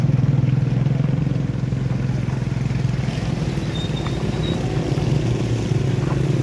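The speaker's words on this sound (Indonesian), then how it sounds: "di sini kita lihat eksanya sudah bergerak bosku" A yellow excavator's diesel engine runs steadily nearby as the machine moves at a rock-cliff clearing site, a continuous low rumble with faint clanking and no pauses.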